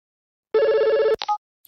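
A single short telephone ring sounds clearly and close, a bright buzzing bell tone lasting about half a second, followed by a quick click and a brief clatter, with quiet before and after.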